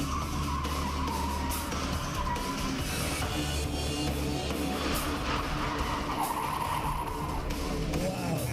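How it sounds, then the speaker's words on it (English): A car drifting and spinning through 180s, tires squealing in drawn-out wails over a steady engine roar, the sound dense and continuous throughout. "Drifting and 180s."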